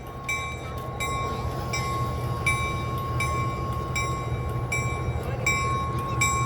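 A heavy locomotive on a turntable rumbles steadily with a low mechanical drone, a high tonal whine and periodic metallic clanks repeating at a slow rhythm.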